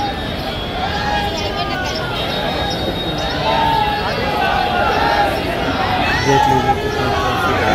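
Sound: crowd at busy Patna Junction railway station

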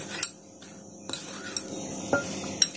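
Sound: mixing wheat flour with banana in a bowl

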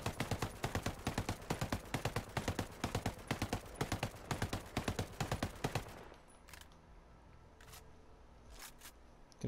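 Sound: MK17 assault rifle rapid fire burst in Ghost Recon Breakpoint video game

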